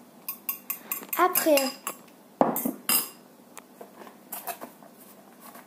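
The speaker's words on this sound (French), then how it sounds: "On remue, on remue. Voilà, on remue." Cookie batter with banana is stirred in a bowl, heard as close, clattering utensil knocks and scrapes against the bowl in uneven bursts, with a brief spoken word.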